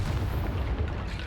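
A Confringo spell explosion in Hogwarts Legacy: a dense, sustained low boom that rumbles steadily without a break, loud and close.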